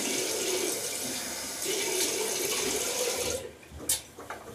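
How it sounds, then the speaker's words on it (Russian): Tap water runs steadily at a thermal spring picnic spot in Spain, rinsing micellar water off the face, a continuous splashing hiss that stops abruptly near the end, leaving faint drips and knocks. "Мицеллярную воду всегда смываю"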